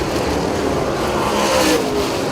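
Super late model race cars roaring at Port Royal Speedway, a loud, continuous engine drone close by that swells slightly as the cars pass, with no voices.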